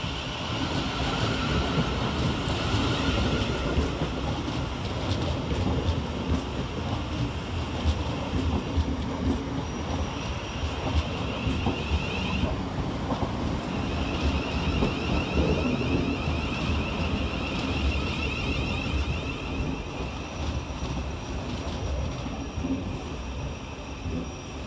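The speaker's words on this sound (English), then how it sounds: "Arriving next into the station is 707011 and 707002, working the 1235 Southeastern service from Dartford to London Charing" A Southeastern Class 707 train, units 707011 and 707002, rumbles into London Waterloo East station, a loud continuous roar of wheels and traction with brake squeal layered on top, sustained throughout at close range.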